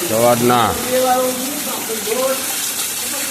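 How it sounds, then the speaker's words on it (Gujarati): Heavy morning rain pours down in Gujarat as a steady, dense downpour that hisses evenly through the whole stretch, with a voice talking over it near the start. "જોવો ફૂલ વરસાદ ચાલુ છે."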